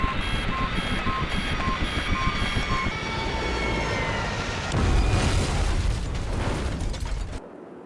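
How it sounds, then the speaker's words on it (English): An aircraft goes down in Project IGI: repeated alarm beeps over a loud engine drone give way to a heavy crash and rumbling explosion, then a sudden cut to quiet. "Mayday, Mayday, going down. We're gonna crash."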